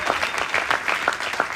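A live audience applauding a stand-up comedian, a brief burst of steady clapping from a crowd, close and fairly loud, with no talk over it.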